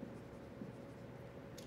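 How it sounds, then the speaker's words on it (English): A pen writes on paper, producing soft, faint scratching strokes close by in a quiet room. "So let's go ahead and write it out."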